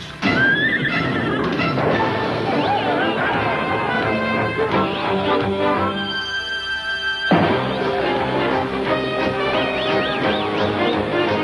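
Horses in a mountain setting whinny and neigh several times in a Busch beer commercial, with clip-clopping hooves, a busy mix of music and sound effects, and some voices underneath.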